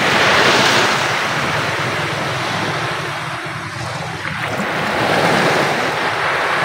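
Waves break and wash continuously along a beach shore where a boat is about to head out to sea, a loud, steady surf roar swelling and easing, with wind buffeting the microphone and no talking.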